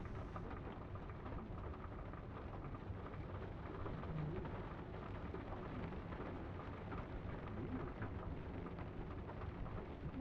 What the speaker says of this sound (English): there's actual literal raindrops like in the game that you can actually still hear in the background even as I paused it